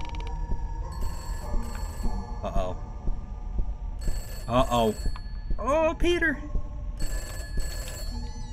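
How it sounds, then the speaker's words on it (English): A telephone rings in the horror video game Peter's House, in repeated bursts of bright, trilling bell rings spread across the clip, fairly loud, while a person talks excitedly between and over the rings. "Where's that phone call coming from?"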